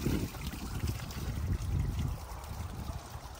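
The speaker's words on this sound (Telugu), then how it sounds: "ఎవరో ట్యాప్ ఆన్ చేశారు, నీళ్ళు అన్నీ పోతున్నాయి వేస్ట్గా" Water runs from an open outdoor tap in a steady, fairly close rushing trickle that continues unbroken for the few seconds heard.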